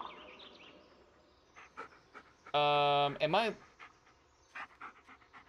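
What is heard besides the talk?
dog panting in a video game (Blair Witch, dog Bullet)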